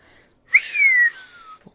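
A narrator's voice imitates a low whistle with one clear tone that starts sharply and glides slowly downward for about a second, followed by a tiny click, no talk.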